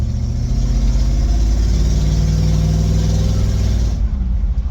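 A 1973 Cadillac driving and accelerating, its engine giving a steady, loud, low rumble close by that holds for several seconds before easing off near the end.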